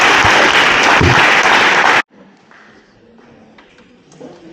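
Loud crowd applause at a volunteer appreciation awards evening, thick clapping for about two seconds that cuts off abruptly into quiet room tone with faint scattered noises.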